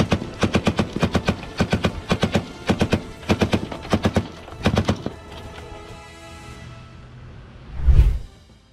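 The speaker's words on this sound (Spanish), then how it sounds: "es momento de otra ráfaga de la ametralladora belga" Belgian machine gun fired from a speedboat in a first-person war game: several rapid rattling bursts in quick succession, loud and close, then a fading whoosh and a heavy thump at the end.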